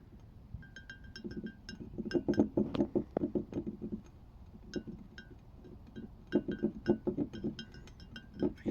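A pit-fired ceramic pot tapped repeatedly, giving bright clinks with a clear ringing tone in irregular clusters, near and fairly quiet against a faint background.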